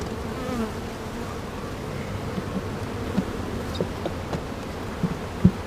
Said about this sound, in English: good to see that the bees are still in there and working it